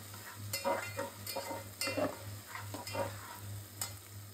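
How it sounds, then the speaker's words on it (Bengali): Chopped onions fry in a pan for a country chicken korma. A soft, fairly quiet sizzle is broken by a regular series of scraping, clinking stirs, and no voices are heard. "কুচানো পেঁয়াজ দেওয়া হয় কারণ পেঁয়াজটাকে ভাজা দিয়ে নিলে পেঁয়াজটা নরম হয়"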